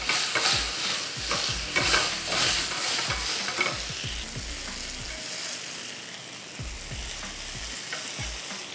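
Soya chaap sears in a hot pan, a steady broadband sizzle with repeated stirring knocks and scrapes, louder and busier in the first few seconds, then settling into an even fry.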